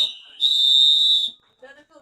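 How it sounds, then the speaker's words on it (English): A sharp, high whistle blows once at a mile race, holding loud and steady for about a second before cutting off, followed by brief distant voices. "hear this whistle going off"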